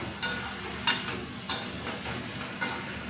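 Garlic, ginger and jackfruit sautéed with spices in a pan give a steady close sizzle, broken by four sharp scraping strokes of a spatula spaced evenly across the stretch.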